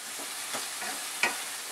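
Tomatoes salted and frying in a pan give a soft, steady sizzle, with a few light scrapes of a spoon stirring them through the short, quiet stretch.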